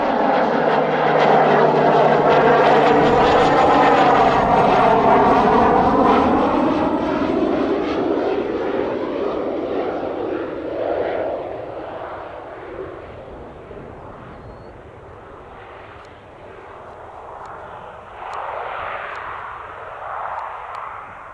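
A fixed-wing aircraft, Gateway 180, lands on runway 8 right at Spirit of St. Louis Airport. Its loud engine roar passes close by with a falling pitch, then fades into a distant rumble that swells faintly near the end.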